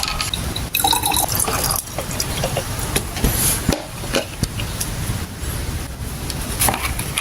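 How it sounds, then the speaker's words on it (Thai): Liquid fertilizer pours into 1.5 liters of plain water, a steady close splashing and trickling stream with a few drips, heard alone for about seven seconds. "ให้เราใส่ปุ๋ยน้ำของเรา ลงไปในน้ำแบบนี้เลยนะครับ"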